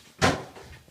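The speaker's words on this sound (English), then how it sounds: "Open the window." A window is pushed open in a home kitchen where coffee beans are being pan-roasted, giving one sharp scraping thud that fades over a fraction of a second amid quiet room noise.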